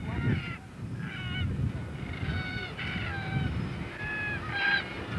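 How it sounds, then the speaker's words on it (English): Black cockatoos in flight over Cape York give a series of harsh, wailing honk-like calls, several separate cries spread across the stretch over a low rumbling background, moderately close. "if you look at the birds flying, they're all black cockatoos"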